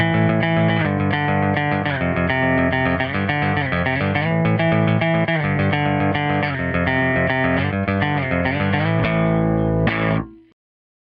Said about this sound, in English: It's quite a clean distortion,